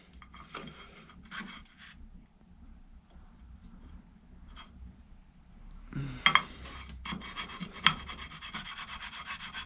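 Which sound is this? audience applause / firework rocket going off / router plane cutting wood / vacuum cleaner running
router plane cutting wood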